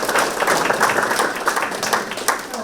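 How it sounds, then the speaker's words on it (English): Dense clapping from a crowd at a public forum, a sustained round of applause at moderate volume with no voices standing out. "let's give everybody a round of applause"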